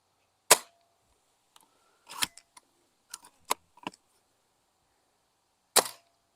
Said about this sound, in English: Now I adjusted my scope, and we're going to try shooting at these targets again.